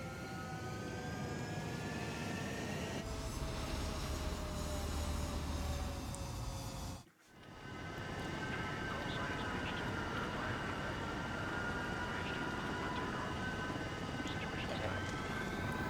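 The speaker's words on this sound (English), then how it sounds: "Everything's working, and now we take off." A fighter jet in the Ace Combat 7 game taking off from an airfield, a steady loud engine roar with a brief dip halfway through, then carrying on at full power.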